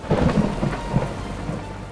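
Heavy rain falls in Delhi with low rolling thunder beneath it, a steady close wash of drops loudest at the start and easing slightly but continuous throughout, with no voices.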